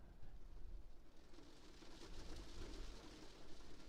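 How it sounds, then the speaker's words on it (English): Gentle rain plays softly in the background, a faint, even wash of patter and hiss with no voices over it. "rain sounds."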